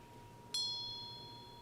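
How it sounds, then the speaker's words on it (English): A single bell is struck once, with a bright, clear strike followed by a ringing tone that decays slowly against a quiet background. "The bell rings."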